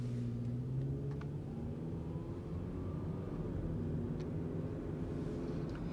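Steady low engine rumble and road noise from inside a moving 2004 Toyota Camry LE with 116k miles, smooth and continuous, with no talking.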